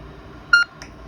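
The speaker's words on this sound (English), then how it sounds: "when you key it up, you're going to hear a single beep saying that it's making the connection" A single short electronic beep sounds from an amateur radio as it is keyed up to open a System Fusion link connection, clear and close against a faint background hiss.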